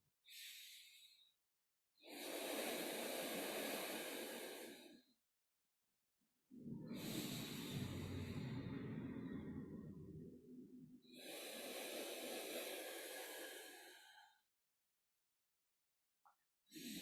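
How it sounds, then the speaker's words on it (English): Deep, slow breathing during a stretching session, with long, even breaths at a steady rhythm and short pauses between them, close and loud, with no talking. "Just breathe deeply and evenly,"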